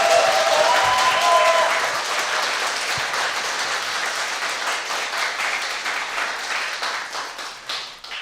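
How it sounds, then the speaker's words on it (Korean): A studio audience claps enthusiastically during a Korean talk show, dense applause swelling at first and then gradually thinning and fading over about eight seconds. "박수."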